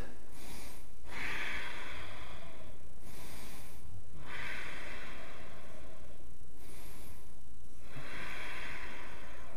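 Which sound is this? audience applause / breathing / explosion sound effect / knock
breathing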